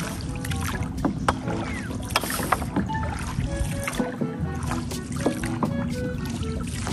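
Oars splash and dip rhythmically as a small rowing boat moves along a river, with strong wind rustling and faint creaks throughout.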